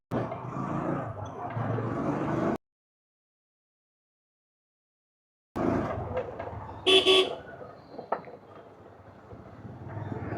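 Heavy Kolkata street traffic in a jam, engines rumbling close around a bike taxi, with a short car-horn toot standing out after a gap of silence and other vehicles roaring past.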